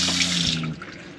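Water runs from a newly installed faucet into an RV sink, a close, steady splashing rush that thins out toward the end.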